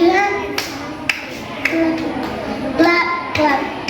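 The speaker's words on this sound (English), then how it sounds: "Clap, clap, clap here." Children clapping hands at a Rangolsav 2024 school event, sharp claps landing in a rhythmic pattern between children's sung and spoken words, close and moderately loud.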